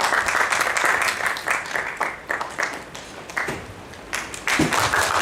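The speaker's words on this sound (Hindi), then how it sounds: "जोरदार तालियां नौजवान के लिए जो है।" An audience in a hall claps for a young speaker, dense sustained applause filling the room, loud and close, swelling and dipping slightly over several seconds.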